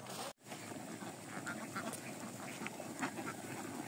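Farm ducks kept for eggs quack in a quiet yard, a soft scattered chorus of calls at a modest distance with little else around.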